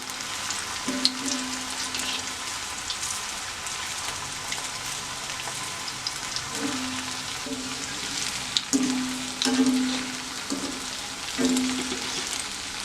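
Malai kofta balls fry in hot oil, turning light brown, with a continuous bright sizzle and crackle close by and a few soft stirring knocks and scrapes in between.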